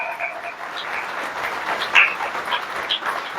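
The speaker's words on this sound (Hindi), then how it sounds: "एक बार तालियां रजनी बहन के लिए हो जाए।" A gathering claps for a woman named Rajni, producing a soft, steady patter of applause, somewhat distant, with a few brighter claps rising out of it.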